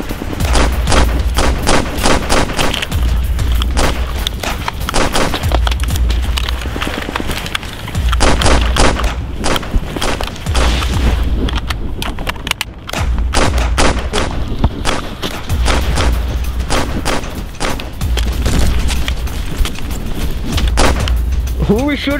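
Repeated bursts of gunfire crackle through a chaotic firefight in a game, rapid volleys coming in waves with brief lulls, loud and close, while people talk over the shooting.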